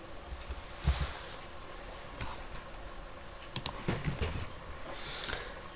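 Keys on a computer keyboard are typed in short, scattered bursts of light clicks, fairly close and quiet over a steady low room hum, with a few sharper taps near the end.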